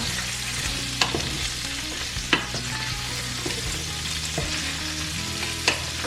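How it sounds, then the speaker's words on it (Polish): Steady sizzling of chorizo and asparagus frying in a pan, with a few sharp clinks and stirring sounds scattered through, no voices. "Niech się tutaj smaży chorizo ze szparagami przez jakieś 4 minuty."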